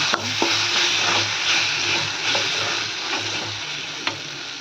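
Tomato masala with turmeric sautés in a pan, a steady close sizzle with faint scrape-and-tap stirring clicks over about four seconds and no talking.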